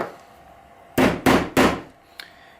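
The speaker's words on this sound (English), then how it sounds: "You may notice me using the butt of my knife to hammer those horseshoe nails in." Horseshoe nails driven into a wooden board with the butt of a knife while leading up a stained glass window: three sharp, loud metallic knocks in quick rhythm, then a faint lighter tap, close and alone.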